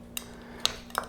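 A metal spoon scrapes and clinks against clam shells while pulling the clams free for clams oreganata, three quick faint clicks spread over about a second against quiet room tone.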